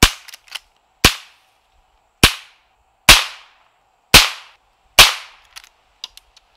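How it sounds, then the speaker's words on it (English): CCI Quiet 22 subsonic long rifle rounds fired one at a time, six sharp cracks about a second apart, each with a short ringing decay, loud and close, with faint handling clicks between shots. "I'm going to start with three CCI quiet 22 rounds, which are suppressor rounds, subsonics."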